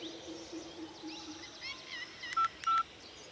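Push-button telephone dialing, a few short, clear keypad tones near the end, quiet against a faint background with a few bird chirps.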